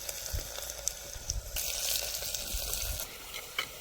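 Spices and chillies crackle and sizzle in hot oil, a steady close frying hiss with small pops, and no voices.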